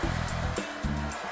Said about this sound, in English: Clearly my hairdryer from home.